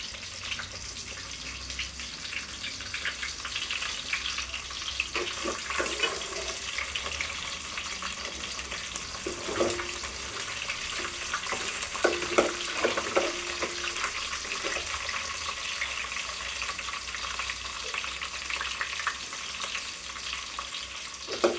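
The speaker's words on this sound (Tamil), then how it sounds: "பூண்டு கொஞ்சம் வதங்கிடுச்சு" Garlic sautéing in a pan, a continuous bright crackling sizzle with occasional light stirring knocks, steady and close throughout with no voices.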